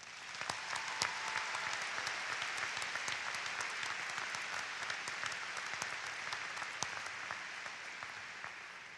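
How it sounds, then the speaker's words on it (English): Sustained audience applause for the Normal West faculty at a high school graduation, a dense wash of clapping with scattered sharper claps standing out, steady and loud throughout with no voices. "Would you please join me in a round of applause for the Normal West faculty?"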